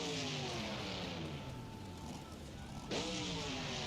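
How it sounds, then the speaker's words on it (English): A truck engine from a racing video game, set to its Legacy sound, drones steadily at high revs, dips slightly, then surges in a sudden loud rev near the end, close and continuous. "We have the Legacy sounds."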